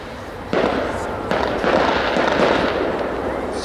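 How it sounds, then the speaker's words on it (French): Crackling fireworks rockets with flashing effects burst at a public display, a dense continuous sizzle with sharp onsets near 0.5 and 1.3 seconds, loud and sustained throughout. "ce sont des fusées clignotantes, crackling"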